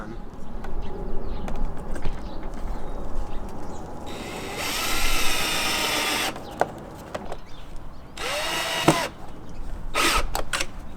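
Power drill boring a hole to mount a Wyze outdoor security camera, a loud whining burst of several seconds, then a shorter second burst and a few brief spurts amid background noise.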